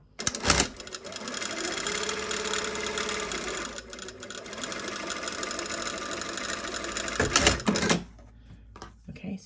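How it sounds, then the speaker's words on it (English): A sewing machine runs one steady, close burst of rapid stitching along a 1.5 cm seam, then stops near the end, leaving quiet handling noise. "So I'm sewing it."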